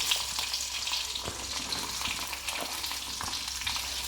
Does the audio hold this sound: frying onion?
yes